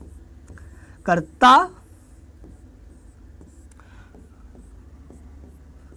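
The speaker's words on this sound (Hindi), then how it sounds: "एक बार मैं इनका नाम लिख देता हूं" Chalk or marker writing grammar terms on a classroom board makes soft, faint scratching strokes against a low hum, with a brief spoken word near the start.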